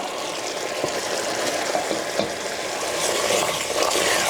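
Sweet potato slices frying in a pan, a dense continuous sizzle with occasional soft clicks and scrapes as they are turned, close and fairly loud, no speech.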